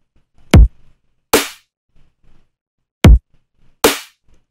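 An electronic future bass beat programmed in Ableton Live alternates a deep punchy kick with a bright, aggressive snare, two kick-snare pairs at a steady moderate tempo, loud and dry with no other sounds.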